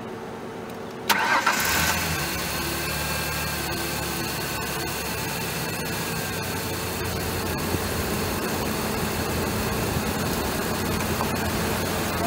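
A 2003 Ford Ranger with a 3.0L engine cranks and catches about a second in, then settles into a steady, close idle that continues to the end with no talking.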